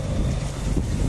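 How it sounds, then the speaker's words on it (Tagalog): Strong sea wind on a fishing boat gives a steady, loud, low rumbling roar with microphone buffeting, close and unbroken, with no voices. "medyo malakas na mga hangin mga idol"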